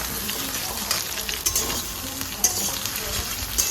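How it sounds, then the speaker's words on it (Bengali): Ridge gourd and potato pieces fry in hot oil for a steady, close sizzle, with a few sharp clicks of a utensil stirring against the pan. "ঝিঙেটাকে ভালো করে একটু ভাজা ভাজা করে নিচ্ছি।"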